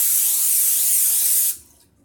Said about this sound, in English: And you want to spray your pizza pan.